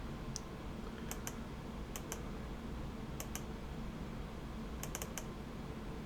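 A computer keyboard and mouse give faint, sparse clicks in small clusters of two or three against a steady low room hum, with no voices.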